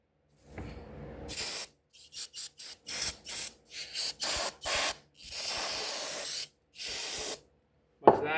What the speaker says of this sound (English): We're gonna grab our cleaning substance here and just go ahead and clean all this off.